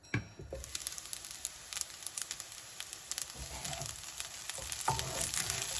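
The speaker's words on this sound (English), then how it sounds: "turn the heat up a bit and just give it a good fry." Steady crackling sizzle of leftover rice frying in a hot pan over raised heat for Indian fried rice, with occasional scraping stirs and pops throughout, close and continuous.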